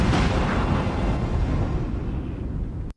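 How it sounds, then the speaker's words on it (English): An explosion from a Doctor Who episode plays back as a dense, loud, sustained roaring blast. It stays at an even level for about three seconds, then cuts off abruptly, with no voices over it. "It's one of the least impressive explosions I've ever seen."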